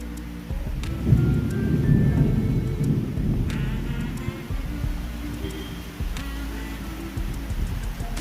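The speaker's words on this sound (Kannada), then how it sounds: "ಗುಡುಗಿನ ಸೌಂಡ್ ಕೇಳ್ಸಾಕತ್ತೈತೆ ಅನ್ಕೋತೀನಿ." Low rumbling thunder rolls in the distance over steady rain, swelling early and fading, with occasional sharp drips and clicks nearby.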